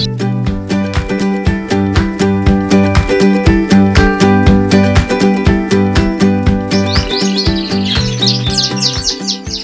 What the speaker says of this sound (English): watching our birds bathe in the canary room